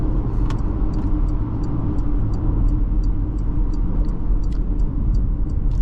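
A 2023 Porsche Macan S on a test drive gives a steady, loud engine and road drone, with a regular faint ticking like an indicator running throughout.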